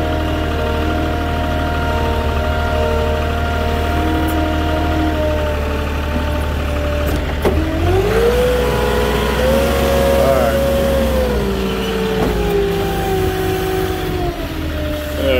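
Forklift engine running steadily while unloading fencing pallets from a truck at a construction site, a loud continuous drone that shifts pitch and revs around the middle as the load is moved.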